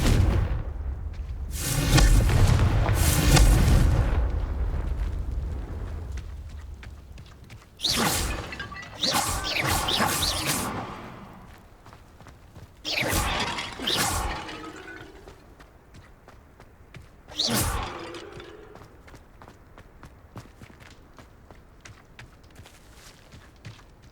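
Confringo blasting spell in the Hogwarts Legacy game striking and shattering vases, several loud booming bursts with crashing debris, spaced a few seconds apart and fading between hits.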